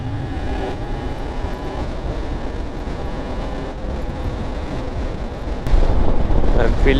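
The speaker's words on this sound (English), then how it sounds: "I'm feeling the wind blast coming straight to my helmet" Wind roars against a motorcycle rider's helmet on a road ride with a group of Royal Enfield Himalayans, a loud continuous rushing buffet that grows stronger near the end, close and without let-up.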